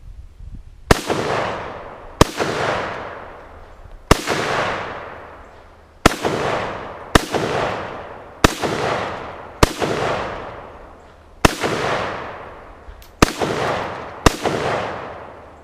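A Russian Tula-built 1953 SKS rifle fires eleven loud, sharp shots outdoors at irregular intervals of one to two seconds, each crack followed by a long echoing decay.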